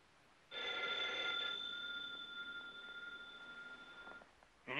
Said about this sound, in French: Ellie, téléphone, Ellie.